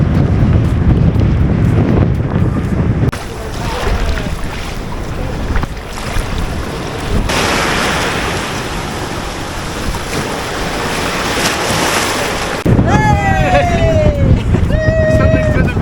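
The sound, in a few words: Indian Ocean waves and wind on the Southern Cape coast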